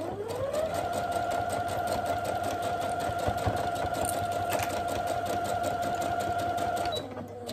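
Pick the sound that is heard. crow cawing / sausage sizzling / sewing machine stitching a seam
sewing machine stitching a seam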